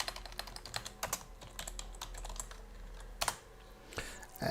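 A computer keyboard clatters with a quick run of close keystrokes as a file name is typed, with a brief pause and a few heavier key hits near the end.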